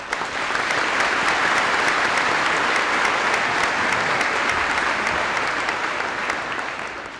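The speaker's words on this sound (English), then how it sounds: "Let's give them a round of applause." A graduation ceremony crowd applauds steadily and loudly for several seconds without a break, then the clapping begins to fade at the end.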